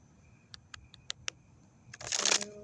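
A deck of tarot cards is shuffled by hand, with several quiet, separate card snaps spaced out before a louder, denser riffling burst near the end, close and otherwise quiet.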